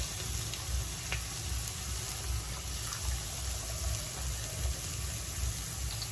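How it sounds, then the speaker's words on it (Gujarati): Thin potato slices fry in hot oil over a medium flame, a steady close sizzle and bubbling that carries on evenly throughout, with no voices. "હવે આપણું તેલ ગરમ થઈ ગયું છે તેમાં આપણે એડ કરી દઈશું અને મીડિયમ ગેસ રાખવાનો છે"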